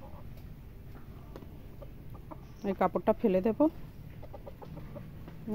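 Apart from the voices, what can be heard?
two chickens fluttering and clucking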